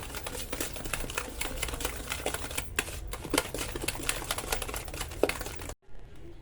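Sugar is mixed into chocolate cake batter with a steady run of scraping, tapping stirring strokes against the bowl, fairly close and continuous, then stopping abruptly near the end.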